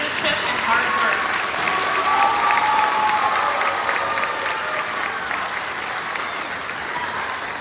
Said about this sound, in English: Let's give them a round of applause for their leadership and hard work.